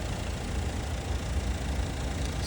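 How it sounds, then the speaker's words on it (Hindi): A Mahindra XUV700 AX7L engine idles quietly at pre-delivery inspection, a steady, even low hum with no knocks or unusual noises, alone with no talk. "तो इंजन में कहीं पे भी कोई अनयूजुअल सी नॉइज़ नहीं है, बिल्कुल शांत सा इंजन है"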